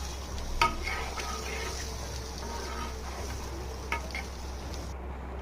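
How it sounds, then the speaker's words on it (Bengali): Pieces of hilsa fish fry in oil in a pan at home, giving off a faint, steady sizzle with a couple of sharp clinks of a utensil against the pan. "এখন মাছ ভাজা শুরু করে দিয়েছি।"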